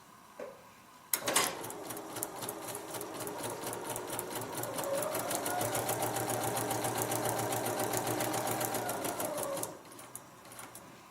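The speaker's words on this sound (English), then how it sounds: "That little clicking noise you hear is the needle going through the paper." A sewing machine stitching a paper-pieced log cabin heart, its needle punching through the paper foundation in a fast, even run of clicks that starts sharply, holds steady for about eight seconds close by, then stops.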